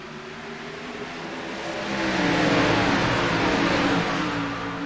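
Sim racing cars roar off at a green-flag start at Texas, a dense engine wash that builds and swells louder midway as the pack accelerates together, steady and close.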